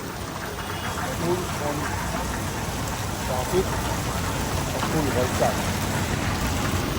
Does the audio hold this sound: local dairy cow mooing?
no